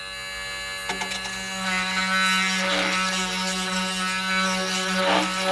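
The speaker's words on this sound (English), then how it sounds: "We're going to use the good old Dremel to just clean out these holes and open them up just a little bit." A Dremel rotary tool whines steadily as it cleans out and slightly widens holes during a tube preamp restoration, starting after a brief quiet moment and holding a constant buzzing pitch.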